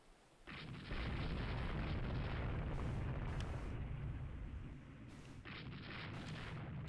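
Warship guns firing during a naval battle in Rule the Waves 2, a loud, dense rumble of sustained artillery and explosions, with sharp bursts breaking through the roar.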